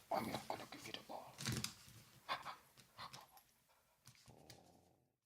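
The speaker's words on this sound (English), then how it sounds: "He's a wonderful little dog." Small dog growling and panting in play over a ball, close and fairly loud in short bursts with brief pauses, ending in a softer steady tone.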